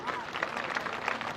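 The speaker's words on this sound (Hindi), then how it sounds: "उनके लिए एक जोरदार तालियां बजाइए" An audience applauds students' dance performance at a public gathering, with a steady, dense wash of clapping that holds for the whole moment, fairly close and even in loudness.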